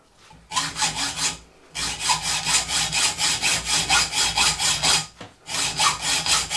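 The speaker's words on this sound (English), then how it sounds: "I'm just going to use the hacksaw, I think." Hand hacksaw cutting through aluminium stock in a machine shop, a loud, close rasping of regular back-and-forth strokes, with brief pauses before and between the runs of strokes.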